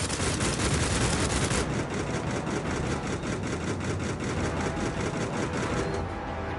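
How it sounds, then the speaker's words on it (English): Rapid, continuous machine gun fire from a video game, loud and close, a dense rattling burst that runs steadily through the whole stretch alongside a low engine-like rumble, with no talking. "Let's try this gun out."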